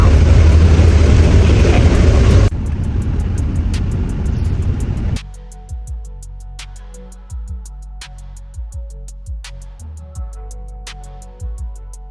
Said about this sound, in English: not little, but I'm on the bus.